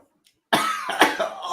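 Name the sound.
cough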